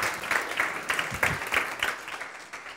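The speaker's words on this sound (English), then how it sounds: "please, a big applause for my co-moderator, Karina" An audience claps for a co-moderator at a conference session on sustainable development and artificial intelligence, a fairly faint, uneven patter of hands that rises in small bursts and gradually tapers off without a clear end.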